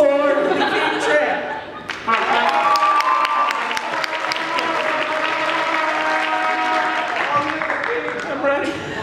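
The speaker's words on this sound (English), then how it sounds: "Please give a round of applause and a trumpet toot for the King Trey." A chapel crowd gives a sustained round of applause at an improv announcement. The clapping is dense and steady throughout, with scattered cheers and voices mixed in.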